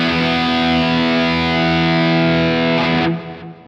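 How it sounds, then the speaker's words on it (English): A band plays a heavy metal guitar riff, recorded in 1983. Distorted palm-muted notes and staccato chords ring out loud and sustained, then are cut short near the end. "The juxtaposition of the tight palm-muted notes, staccato chords, and open chords just makes it sound so huge, like it was meant to be played in arenas."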